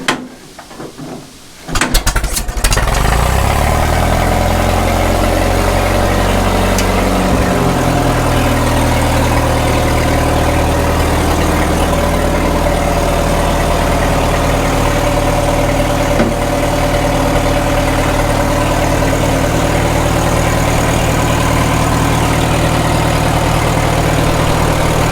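A 1936 Caterpillar Twenty-Two tractor engine that had sat for years catches after a short silence and settles into a loud, steady low idle that runs on unbroken, close by.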